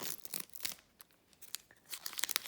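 A Pokémon card booster pack is torn open: quiet crinkly foil tearing and crackling in several short rips and rustles, close up, with no talk.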